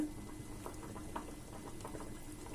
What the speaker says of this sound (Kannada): ಒಂದು ಹತ್ತು ಹದಿನೈದು ಇಪ್ಪತ್ತು ನಿಮಿಷ ಕುದಿಸ್ಕೋಬೇಕಾಗ್ತದೆ ಇವನ್ನ